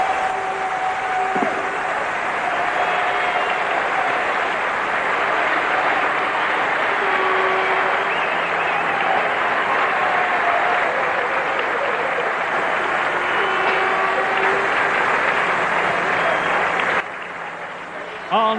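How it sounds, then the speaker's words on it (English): A large crowd cheers and applauds at the 1994 German Grand Prix podium for Formula One, a sustained distant roar of applause with a commentator's voice faintly beneath, fading slightly near the end. "Listen to the crowd."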